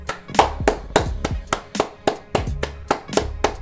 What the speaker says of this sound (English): Had to give a moment of applause